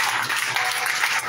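A congregation applauds during a church deliverance service, a dense, steady wash of many hands clapping together at close range, with no talk over it.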